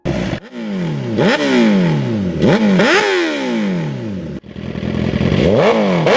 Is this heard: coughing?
no